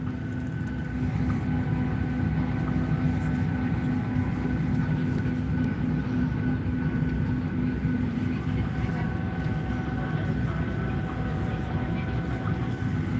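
Steady airliner cabin drone on a short flight, a constant low rumble with faint hum tones throughout, no break in level, with a voice faintly murmuring underneath.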